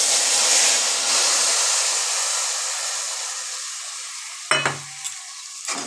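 Spice paste fries in a pan with a loud, hissing sizzle that slowly fades. Near the end come a few sharp scrapes and clinks of a utensil stirring against the pan, and no one speaks.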